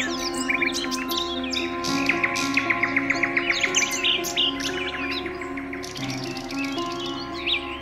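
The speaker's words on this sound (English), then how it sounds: "the beautiful birds whose songs were the very fabric of the forest" Birds sing in a forest, with many bright chirps, trills and rapid repeated notes from several birds overlapping at moderate distance over a steady, soft background hum.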